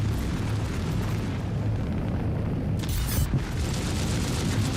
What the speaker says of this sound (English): Just accidentally shot down the torpedo.